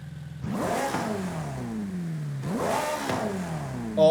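Two sharp revs from a Ferrari F8 with upgraded cams in Forza Horizon 5, each climbing fast to a high scream and falling away, loud and close with no talk.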